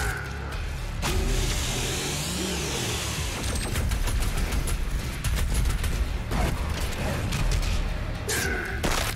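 Gunfire in the video game Doom Eternal crackles in scattered, sharp bursts over a dense, loud background of in-game noise and music, with a few heavier thuds.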